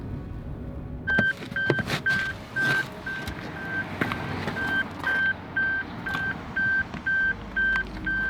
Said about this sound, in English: That goes off every single time you get out of the car and you haven't removed the key.